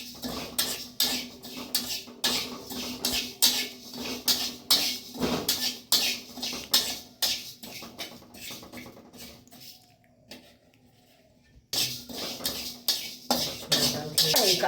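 Mung dal dry-roasting in a pan for a red amaranth greens dish, stirred so the grains patter and scrape in quick, busy bursts that fill the clip, pausing briefly near the end before resuming.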